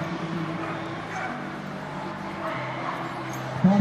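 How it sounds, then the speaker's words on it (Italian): Several dogs bark and whimper at a moderate distance, with short yips and whines scattered over steady background noise and a louder yelp near the end. "ci stanno altri cani"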